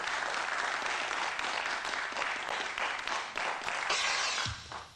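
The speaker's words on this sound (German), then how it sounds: "Applaus." Studio audience on a 1990s German quiz show applauds in a steady, dense wash of clapping with no voices, tapering off at the very end.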